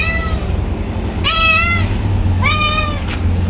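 A cat meows twice, clear and fairly close, with each call rising then falling, over a steady low hum of background noise at a roadside food stall by rice fields.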